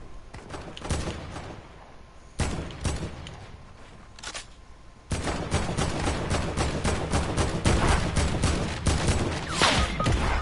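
Gunfire crackles in a shooting video game: sharp bursts of rapid shots in the first half, then a dense, continuous volley of loud reports that keeps going to the end.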